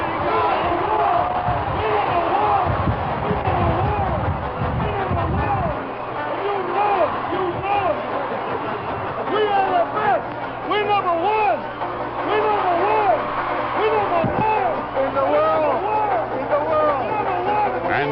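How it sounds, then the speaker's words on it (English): Large crowd cheering at a Boston Bruins Stanley Cup celebration in 1972, a dense roaring wash of voices and shouts that stays loud for the whole stretch, with a narrating voice over it. "The crowds cheered, and the bands played, and Stanley was home."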